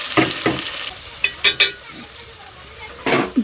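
Crab curry with onions and tomatoes frying in a pan, steady sizzle broken by several short scraping stir strokes in uneven bursts, close and fairly loud.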